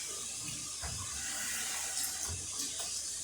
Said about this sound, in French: J'ai mis un peu d'eau au fond.